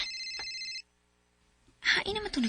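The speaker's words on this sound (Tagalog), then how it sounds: "Hain naman ito nagtingog ng cellphone." A cellphone rings with a loud, bright electronic ringtone for just under a second, then cuts off into brief silence before people start talking close by.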